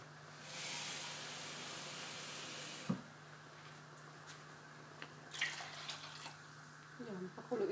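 Water poured from a tap or jug into a cooking pot for chicken kabsa, a steady broadband rush for about two seconds near the start, then quieter kitchen clatter and small knocks.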